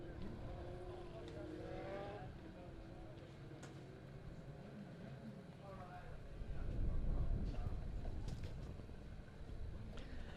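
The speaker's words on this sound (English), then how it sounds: "The cars are nose to tail, ready for the restart." Legend race cars at Springfield Raceway circle nose to tail under caution before a restart, a steady engine drone with harmonic sweeps as they pass, growing louder near the end, with an announcer talking over it.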